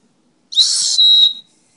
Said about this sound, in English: Also has this handy dandy whistle.